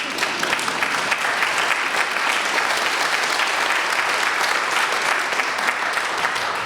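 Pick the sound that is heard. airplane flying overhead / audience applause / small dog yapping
audience applause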